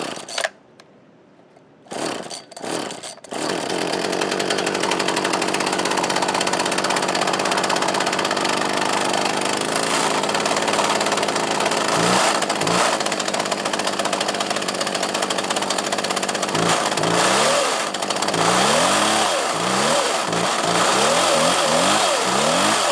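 A salvaged Husqvarna 36 chainsaw sputters and then catches, settling into a continuous buzzing two-stroke run with a fast idle, and near the end a series of quick rising and falling revs sound close and loud.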